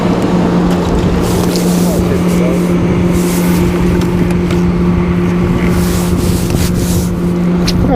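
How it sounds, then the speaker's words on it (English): Boat motors drone on the water with a steady engine hum, wind and splashing mixed in, loud and continuous throughout. "Got a few boats out on the water today."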